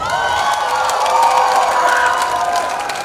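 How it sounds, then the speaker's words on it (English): An audience at a university convocation play cheers and whoops, with some clapping mixed in. The crowd noise is loud, continuous and held at a steady level for about three seconds. "A round of applause, a round of applause, a round of applause."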